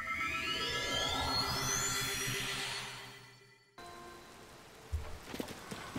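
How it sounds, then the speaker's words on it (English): Rain falls in the open world of Zelda: Tears of the Kingdom, a soft steady hiss under game ambience that briefly dips out, followed by a few light thuds. "And of course it's rainy again"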